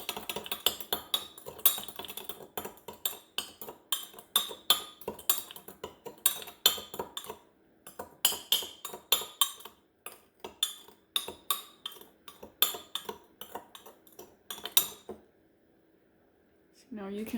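A spoon clinks and scrapes against a cup while stirring coffee and sugar for a mocha, in quick rhythmic bursts with short pauses, then stops near the end.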